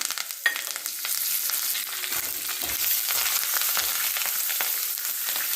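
Cumin seeds, curry leaves and asafoetida sizzle and crackle in hot oil, a steady bright frying hiss with small pops, close and fairly loud.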